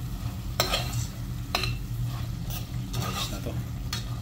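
A coconut milk dish with bagoong simmers in a pan while a utensil stirs it, giving a soft bubbling bed punctuated by several sharp scraping strokes at irregular intervals.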